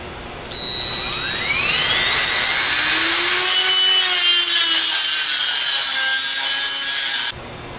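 A cutting wheel grinds through a hardened steel part on a Denso internal fan shaft, a loud continuous high-pitched whine that rises and shifts in pitch for several seconds before stopping abruptly.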